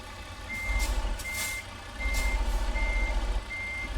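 A truck's reversing alarm beeps in a steady, rapid rhythm over a low engine rumble in the driving game American Truck Simulator.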